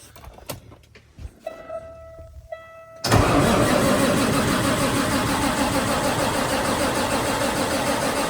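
A Peterbilt-style 389 truck's big diesel cranks with a few sharp starter clunks and chirps, then catches at about three seconds into a loud, steady, rough rumble that holds close and continuous to the end.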